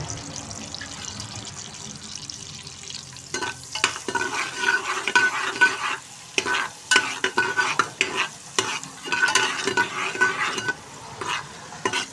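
Butter melting with a little oil in a heated pressure cooker for pav bhaji, a steady close sizzle broken by bursts of scraping and stirring, with tap-like splashy hiss in places and no talking.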